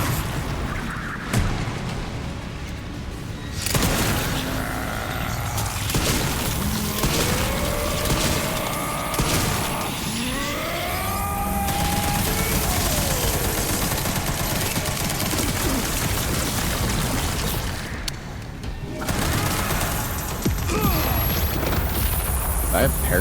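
Gunfire in the video game Resident Evil 9: Requiem, repeated shots and booms within a dense, loud game mix of music and effects, with someone talking over much of it.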